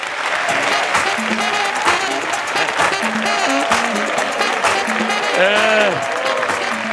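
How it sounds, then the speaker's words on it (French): Audience applause at a live comedy show, dense and loud throughout, with cheering voices and shouts mixed into the clapping. "Beaucoup d'applaudissements pour Edoudoua Nonglacé"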